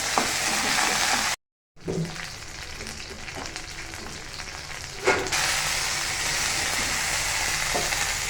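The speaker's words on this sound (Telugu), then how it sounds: "మంచిగా వేంపుకోవాలి." Ingredients for coconut chutney fry in a pan with a steady, close crackling sizzle, interrupted by a brief silent gap and a soft clatter partway through.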